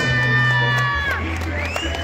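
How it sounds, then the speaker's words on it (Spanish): A crowd at a lucha libre wrestling show cheers and shouts loudly in a brief burst, with a few high whistling tones. "Fuerte el aplauso, damas y caballeros."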